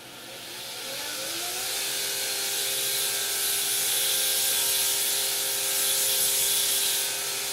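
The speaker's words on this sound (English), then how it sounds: "So I'm just going to touch this on the grinder to make sure it goes through a 3/8 hole." A grinder runs with a steady, rising whine and hiss as a forged metal part is touched against it, close and continuous for several seconds.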